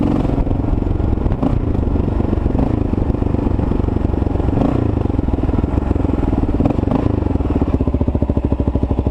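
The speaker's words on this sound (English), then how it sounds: "This bike becomes a little torque monster, and it's instant throttle response." A Kawasaki KLR650 single-cylinder motorcycle with modified carburetors runs loud and close, its engine throbbing steadily with clattery mechanical noise and a rapid pulsing note toward the end.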